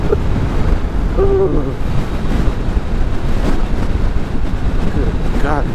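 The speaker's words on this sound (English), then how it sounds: "It's too much wind, too much cold." Heavy wind roars steadily into the microphone while riding a 2019 Kawasaki Vulcan S ABS motorcycle on a cold night, loud and constant throughout, with a brief voice exclamation.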